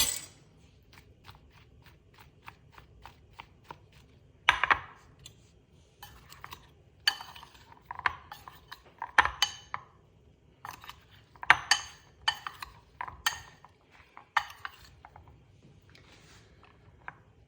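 Clinking and scraping as broccoli and tofu are tossed with cornstarch, black pepper and salt in a bowl, a close run of irregular light knocks and clicks with no talking.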